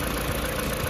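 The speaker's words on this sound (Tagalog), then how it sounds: "Guys, gumagana na po ang ating engine." Peugeot 207 engine idling after a stuck fuel injector was replaced, a steady, loud, close mechanical hum with a fine even ticking texture, continuous with no voices.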